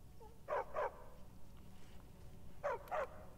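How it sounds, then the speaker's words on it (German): Dogs in the video game Skyrim bark in two quick pairs of sharp yaps, moderately close, with a short gap between them and no talk over the barking. "Tolle Wachhunde seid ihr."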